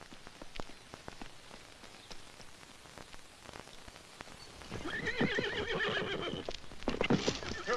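Several horses neigh and whinny in an Old West setting, shrill calls rising over a steady patter of rain and hoof clip-clop, growing louder and fuller toward the end.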